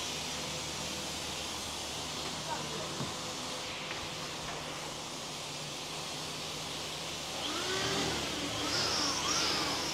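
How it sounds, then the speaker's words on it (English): Engine of a Nigerian-made 56-seater bus running, a steady mid-pitched drone under road rumble that swells slightly near the end, as heard from aboard while the bus bounces along. "So this is like a 56-seater bus."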